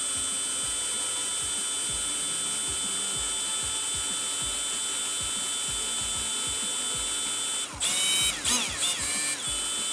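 A sharp drill bores into a tubular lock, giving a steady grinding whine throughout that grows louder and harsher near the end with bursts of high metallic squeal.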